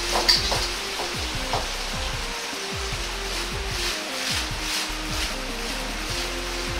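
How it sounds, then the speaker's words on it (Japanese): A Chinese-style meat omelette sizzles and crackles in a wok as a spatula slides under its edge and the pan is lifted and flipped, with dense frying noise and repeated low scraping sweeps throughout. "ヘラを卵の端から軽く入れ鍋を持ち上げながら裏返します"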